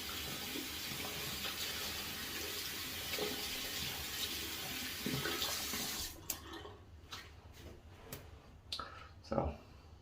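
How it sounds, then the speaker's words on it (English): Running tap water rinses a fine shaving brush under a faucet, a steady close splashing hiss that then breaks into intermittent drips and clicks as the flow stops. "So let me give it a little rinse."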